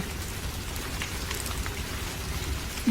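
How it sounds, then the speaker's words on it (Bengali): Steady rain falls outdoors during a storm, a continuous broadband hiss of drops with no voices, holding even throughout and swelling slightly at the very end. "বাহিরে ঝড় বৃষ্টি হচ্ছে"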